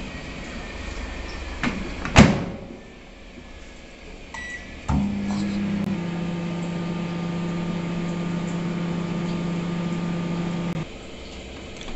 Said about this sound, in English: You need to put it in the microwave for 20 seconds.